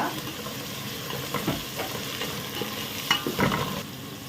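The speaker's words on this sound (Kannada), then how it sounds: "ಇದು ಕೂಡ ಚೆನ್ನಾಗಿ ಫ್ರೈ ಮಾಡಬೇಕು ಸ್ವಲ್ಪ ಸ್ಮೂತ್ ಆಗೋ ತನಕ" Chopped tomato sizzles steadily in a pan of frying masala for Mangalorean-style mutton curry, with a spatula scraping and stirring in occasional bursts, close and moderately loud.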